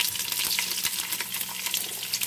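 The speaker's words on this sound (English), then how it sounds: "I am going to drop the garlic, ginger," Garlic and ginger frying in a hot pan, a dense, even sizzle with crackling spatters running continuously and close up, no talking.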